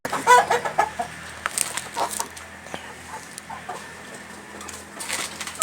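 Native country chickens cluck repeatedly close by, with scattered calls and squawks over a steady outdoor background.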